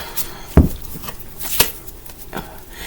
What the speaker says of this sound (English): I'm going to shuffle a couple more times here